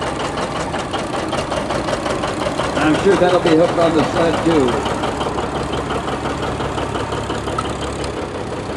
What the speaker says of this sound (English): 830 John Deere diesel.